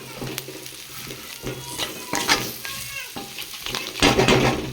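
Mutton fry sizzling steadily in a pan while a spoon stirs through it, with scraping and clinking bursts recurring every second or so, close and fairly loud.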